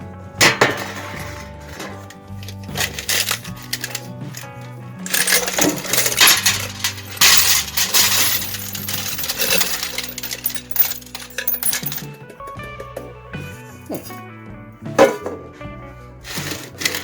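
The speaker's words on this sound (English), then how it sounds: "I'm gonna get some washers." Hands rummaging through a can of metal washers in a garage, loud close jingling and clinking in uneven bursts with scraping shuffles and brief pauses.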